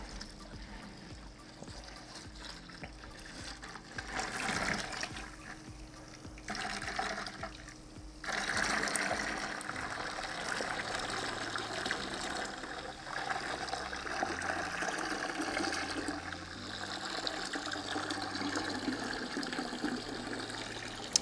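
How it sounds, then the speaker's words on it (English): Aquarium water from a nano reef tank runs through a thick siphon hose into a bucket, a steady gurgling, trickling stream with splashy surges, continuous and fairly close with no talking. "you're just going to use the gravity of that siphon to start sucking it out"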